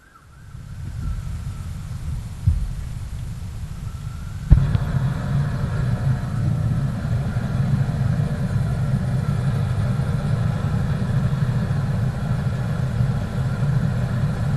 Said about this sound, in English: now we're ready to turn on the gas and fire up the furnace